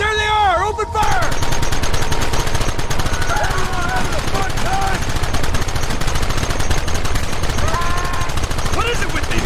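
Dense, continuous gunfire from Red Dead Redemption on PS3 keeps up a loud, rapid crackle of overlapping shots for the whole stretch, with shouted voices breaking through at moments.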